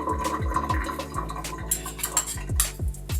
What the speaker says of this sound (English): I think I'm gonna rinse this other spoon that I had off so that I can use it